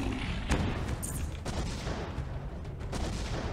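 Explosion in the mech-building video game M.A.S.S. Builder, heard as a few sharp blasts and thuds over a dense, noisy battle backdrop, fairly loud throughout, with no speech over it.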